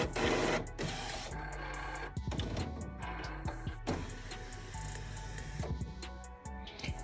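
An Epson WF-7710 Workforce printer runs its reset cycle up close, with whirring motor runs, carriage shuttling and sharp mechanical clicks and clunks in an irregular rhythm, and no talk.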